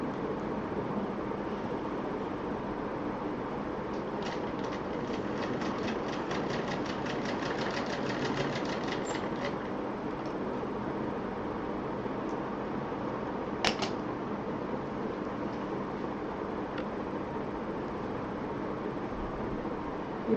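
A sewing machine stitches a drawstring cord into a folded fabric pouch, a continuous close mechanical hum and rattle that stays steady for the whole stretch, with one brief sharp click near the end.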